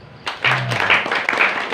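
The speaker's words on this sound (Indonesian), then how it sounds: "Tepuk tangan ya" Applause from an audience at an Islamic boarding school gathering, a dense wash of clapping hands that swells briefly with a voice faintly underneath.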